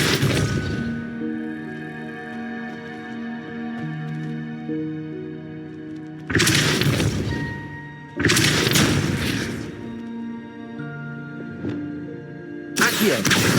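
Depulso, a force-push spell cast in the Hogwarts Legacy video game, lands as several loud, sudden blasts with a booming thud. A steady musical hum runs underneath and hangs between the repeated casts.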